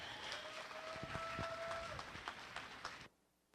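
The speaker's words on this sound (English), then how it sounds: "let's give them one more big round of applause." An audience in an arena claps for young 4-H goat showmen leaving the show ring, a scattered round of applause with a few distinct claps over a steady crowd murmur and a passing tone, ending abruptly.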